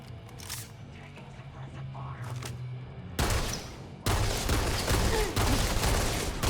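Gunfire in the space-exploration video game Starfield: dense, loud bursts of shooting that start abruptly midway and keep going to the end, with a quieter stretch of ambient game sound before them.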